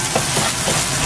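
Garlic hits a hot pan and frying fizz fills the moment, a brief loud crackling sizzle heard up close.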